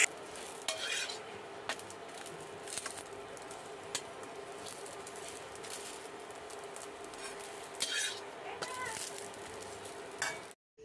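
Paratha fries in a kadai with a steady, quiet sizzle, broken by a few sharp clinks and scraping stirs of a utensil against the pan.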